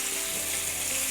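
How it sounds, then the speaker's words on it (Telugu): Dried chillies, curry leaves and asafoetida crackle in hot oil for a tempering over a wood-fired stove, a brief, steady close sizzle heard on its own. "తాలింపు వేసేసుకుందాం"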